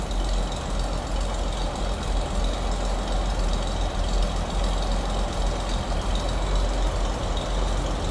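The inline six-cylinder engine of a 1934 Chevrolet DB pickup runs steadily at idle, a continuous low rumble with a dense, even drone throughout and no talking.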